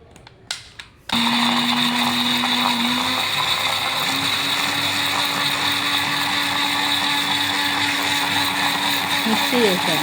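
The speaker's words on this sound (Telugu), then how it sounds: "మిక్సీ వేసాను." A kitchen mixer grinder whirs into life after a few faint clicks and grinds tomato pieces in its jar into puree, a loud, steady motor roar that holds for the rest of the stretch.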